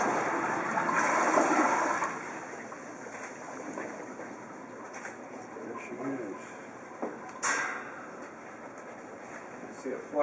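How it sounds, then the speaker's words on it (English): A Sloan Flushmate 1.1 gallon pressure-assisted toilet, loaded with 1,000 grams of waste, fires a sharp, loud flush lasting about a second, then water trickles and refills more quietly while people talk nearby. "Flushed it all out, left the water slightly stained, but not bad for that."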